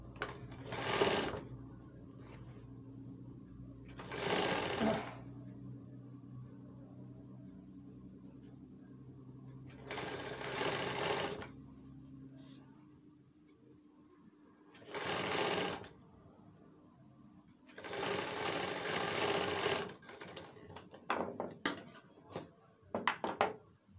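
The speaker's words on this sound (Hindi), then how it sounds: "पकड़ने के बाद क्या है, हम इसको सिलाई मार लेंगे।" A sewing machine stitching the lining of a coat sleeve during an alteration runs in several short bursts of a second or two each, with quiet pauses and handling noises between them.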